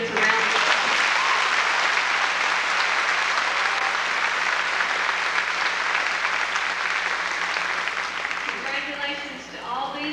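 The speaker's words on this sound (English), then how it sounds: "Let's give all these students a round of applause." Sustained applause from a high school graduation audience honoring award winners at a 1996 ceremony, dense steady clapping filling a large hall and fading slightly toward the end.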